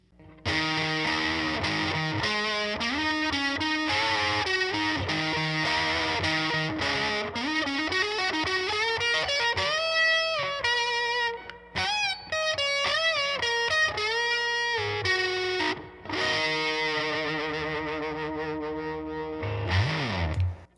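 A Fender Stratocaster electric guitar played through a fuzz effect, heavily distorted notes and bends sounding loud and continuous, with brief drops between phrases and no talking.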